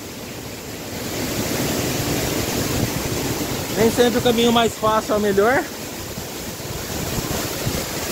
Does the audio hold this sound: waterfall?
yes